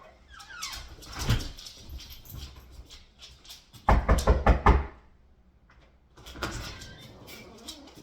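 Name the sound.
knocking on a door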